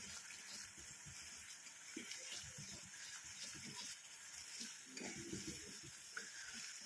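Thick homemade hair-dye mixture bubbling and sizzling in a pan as it boils down, with soft stirring and scraping sounds throughout, close and fairly quiet.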